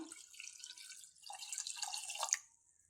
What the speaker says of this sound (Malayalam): ഇതിലേക്ക് ഇനി മൂന്ന് ഗ്ലാസ് വെള്ളം ഒഴിച്ചു കൊടുക്കാം